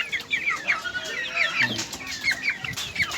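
Hens cluck in short repeated bursts, fairly close, with soft farmyard background noise and a few scattered low sounds.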